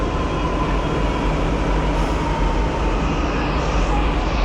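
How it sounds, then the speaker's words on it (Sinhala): A metro train at a station in India gives off a steady, loud rumble and hum that holds evenly throughout. "ඔන්නාවා මෙට්‍රෝ එක."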